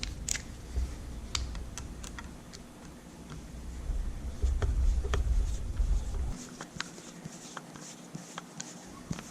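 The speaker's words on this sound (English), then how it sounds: "So, we're releasing these 4 screws." Small screws being backed out of the cover of a Penn Spinfisher V fishing reel, heard as close, faint ticking and clicking taps scattered over a low background rumble, with no talk.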